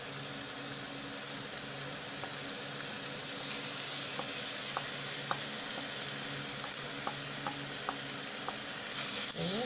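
Drained canned tuna sizzles and crackles steadily in hot frying oil in a pan for tuna sisig, a continuous close hiss with small pops scattered throughout.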